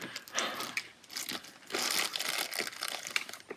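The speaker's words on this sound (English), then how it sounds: "comes in a little plastic bag." A small plastic bag holding betel nut crinkles and rustles up close in a series of sharp, irregular crackles, with no voices.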